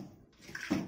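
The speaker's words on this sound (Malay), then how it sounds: "kalau one way valve ni aku tekan, air akan keluar lah" Water gushes out as a one-way valve is pressed in a home water-pressure setup, a brief close burst of flow that builds toward the end.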